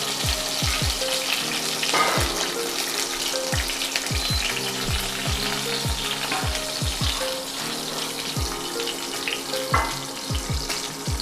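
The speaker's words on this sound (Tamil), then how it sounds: "கொஞ்சம் எண்ணெயில் பொரியணும்." Cinnamon, cardamom and cloves fry in oil with a continuous crackling sizzle. Frequent soft popping bursts run through the sound, close and steady, with no talking.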